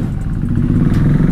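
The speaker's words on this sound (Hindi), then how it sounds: "भाई बंद हो रही है बाइक" KTM Duke 390 motorcycle engine running loudly and close, a steady low rumbling idle with clattery texture throughout.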